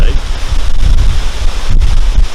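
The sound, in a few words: strong wind blowing outdoors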